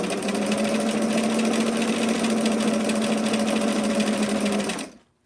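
A sewing machine runs steadily while stitching fisheye darts on a vintage 1990s dress, a loud, even mechanical whir that carries on alone for several seconds and then stops abruptly.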